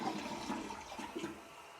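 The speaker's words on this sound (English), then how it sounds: "We're going big flush." A toilet in an old house flushing on its full flush, water rushing and swirling steadily at close range without a break, with no one talking.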